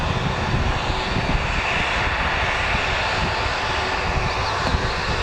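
An aircraft engine at Newcastle Airport gives a loud, continuous broadband roar, steady and close, with no other sounds standing out.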